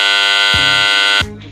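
A portable gas detector's main alarm, set to trip above 75 parts per million at an Arcelor Mittal steelworks in Avilés, sounds as a loud, steady electronic tone. A lower pulsing buzz overlays it twice before the tone cuts off near the end.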